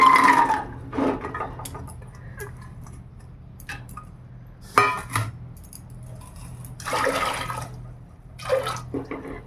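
Boiled pumpkin strained from its cooking water in a village kitchen, intermittent splashes and pours with clinks of a utensil against a vessel, close and irregular, no voices.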